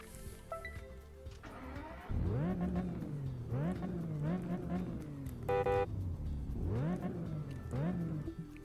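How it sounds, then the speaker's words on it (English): Aston Martin Vanquish engine in Test Drive Unlimited 2 revving repeatedly from the interior view, several sharp rising blips that fall back to idle, loud and close, with a brief whine midway. "I'll go into the interior and rev it for you guys real quick."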